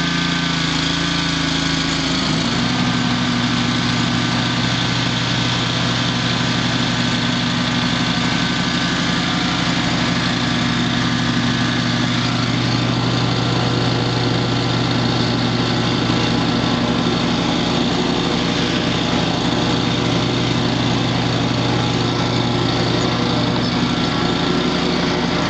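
An Exmark lawn mower engine runs steadily at a constant idle for the whole stretch, loud and close, with a steady drone. Its pitch shifts slightly early on and then holds even, and no one speaks.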